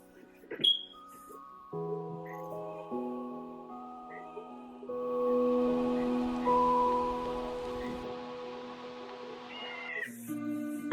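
A house cat meows in long, drawn-out, tonal cries, several in a row over about ten seconds, fairly close and alone with no talking.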